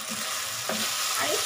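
Broken-up boiled potatoes fry in a pan with a dense, even sizzle, and a spatula scrapes through briefly, close and steady.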